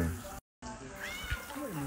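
A cat stuck up in a tree meows in a few drawn-out, rising and falling cries, fairly near, mixed with people talking and outdoor background noise around it.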